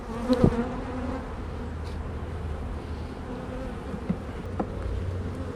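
Honey bees hum in a steady, continuous drone close by while a hive is opened and its frames of pollen and brood are inspected, with a few brief knocks of handling over the buzz.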